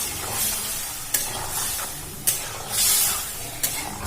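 A spoon stirs a potato and papaya curry simmering in a pan with a little added water, a steady close sizzle broken by three sharp scraping knocks of the utensil against the pan.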